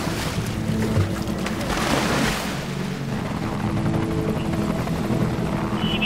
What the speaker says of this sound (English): You ready to go back up in the helicopter?